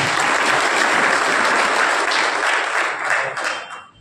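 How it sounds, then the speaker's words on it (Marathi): Sustained audience applause at a Maharashtra Day gathering on EPS pension matters, a dense, steady wash of many hands clapping that holds for several seconds before thinning out near the end. "त्या सर्वांचे आपण टाळ्या वाजवून आभार मानतो"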